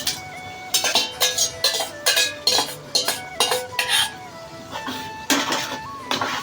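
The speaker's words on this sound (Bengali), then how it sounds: "ভালো করে মাংসের সাথে টক দই মিক্সার করতে হবে।" A metal spoon stirs sour yogurt into meat in a pot for biryani, giving a close, steady run of clinks and scrapes against the pot in a quick rhythm, with no talking.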